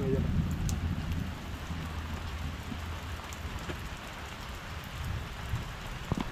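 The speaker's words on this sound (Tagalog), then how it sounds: "habang nag-aantay silang tumila ang ulan" Steady rain pours down outdoors, a dense hiss of drops with faint background voices underneath throughout.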